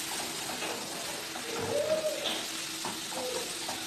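Chopped onion and chicken breast frying together as a filling for Turkish fatayer, a soft, steady sizzle with light stirring throughout, fairly quiet.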